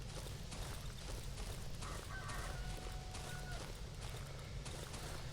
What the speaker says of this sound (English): for us to hear chickens in the Old Woods, there has to be some that could be hunted